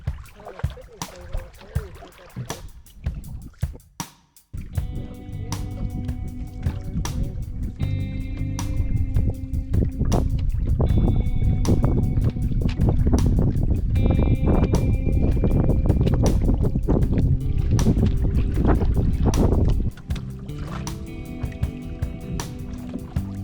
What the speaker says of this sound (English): Right now we're paddling what they call the canoe trail with Big Island over here to our left.